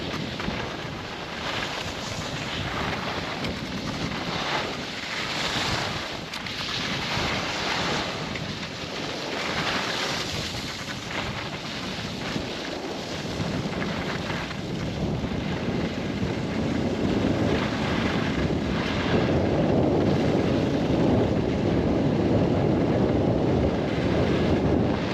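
Strong wind at the Zakopane ski area, where the highest lift was closed: a steady, roaring gusty rush buffeting the microphone throughout, growing louder and fuller in the second half.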